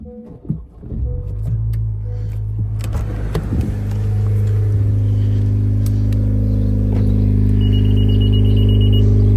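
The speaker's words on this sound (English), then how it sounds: "I'm just gonna start the car real quick." A car with an aftermarket Rev 9 exhaust cranks and catches, then settles into a deep, loud, steady idle rumble that keeps droning, with a faint high electronic beep near the end.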